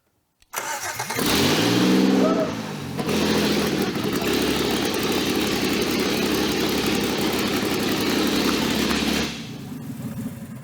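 A hot-wired Jeep engine swapped into a Toyota pickup cranks and catches, revs loudly for a moment, then settles into a steady, close rumbling idle before cutting off near the end.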